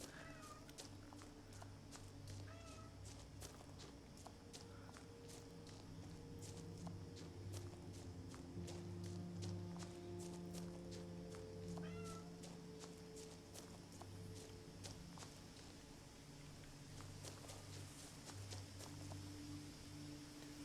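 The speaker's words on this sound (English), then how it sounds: "She makes really fast sidesteppy noises." Quick, light pattering of a cat's many tiny footsteps in the video game What Remains of Edith Finch, set against a steady ambient game soundscape with occasional soft meows and faint clicks.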